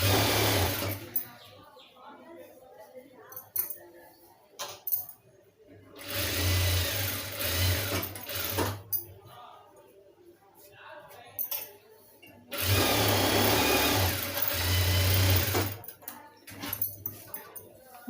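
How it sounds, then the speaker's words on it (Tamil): A sewing machine stitches along the edge of a blouse lining in three sustained runs of steady, close motor whir, separated by quieter pauses with handling sounds. "அந்த எட்ஜிலே தையல் போட்டுக்கலாம்."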